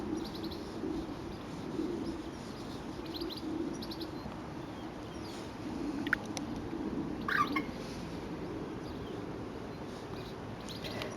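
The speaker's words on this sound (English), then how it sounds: "Bird in the hedge there having a twitter." Faint, scattered bird chirps and twitters come from a hedge beside Chichester Cathedral over a steady low background hum, with a few brighter calls standing out.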